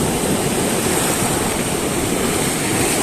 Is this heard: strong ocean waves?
yes